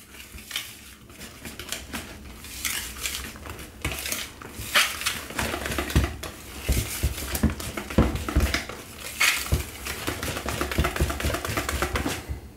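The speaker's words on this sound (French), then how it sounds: "on mélange comme il faut pour obtenir une pâte bien lisse" Chocolate cake batter of sifted dry ingredients being stirred in a bowl until smooth, with continuous close clinking and scraping of utensil against the bowl, moderately loud and steady, no voices.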